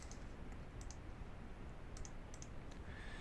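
Light, quiet keystrokes on a computer keyboard tick sparsely in irregular bursts over a soft, steady background hiss.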